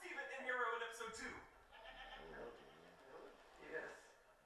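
A goat bleats in a few wavering cries, moderately loud and partly mixed with voices in the background.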